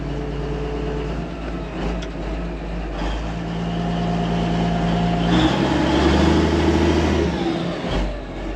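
An old heavy machine's engine runs under throttle in the woods, a loud rumbling drone with tonal hum that rises and strains as it is pulled up further, steady throughout with no talking.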